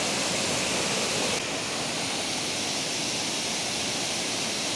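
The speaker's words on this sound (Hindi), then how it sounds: "बहुत मस्त झरना है यहाँ पे।" A steady, full roar of falling water at Borwal waterfall, heard near and loud, dipping slightly early on then holding constant.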